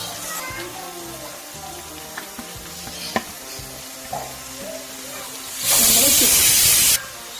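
Onion added to a hot pan of spiced masala and stirred, a low sizzle with scattered spatula knocks, then a loud burst of hissing frying for about a second near the end, close up.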